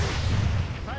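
Heavy booming gunfire from a Planetside 2 battle aimed at an enemy Thunderer, a deep continuous low rumble of shots lasting about a second, loud and close with a faint tonal whine near the end.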